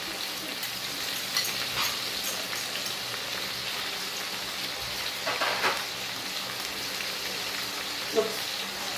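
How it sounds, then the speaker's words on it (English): Cut vegetables hit a hot pan for a stir fry, giving a faint, steady crackling sizzle with a few soft clatters and stirring scrapes scattered through it. "go ahead and add my vegetables that I showed you guys previously that I cut up to this to start up stir fry"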